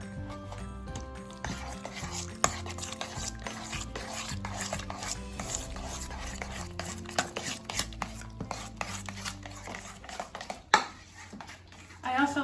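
Tzatziki ingredients with red wine vinegar being mixed in a bowl, close irregular utensil scrapes and clacks in quick succession, with speech heard intermittently.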